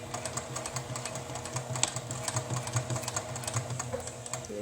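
A Juki TL2010Q sewing machine stitches in a rapid run of quiet, even mechanical clicks and ticks, heard alone without talk.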